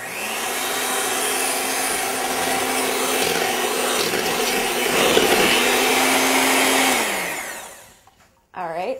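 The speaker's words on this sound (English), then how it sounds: "we're gonna beat that on low until they get all incorporated together" An electric mixer beats sour cream and maple syrup on low for maple bran muffins, giving a loud, steady whirring drone that runs for several seconds, then winds down and stops, followed by a brief clatter.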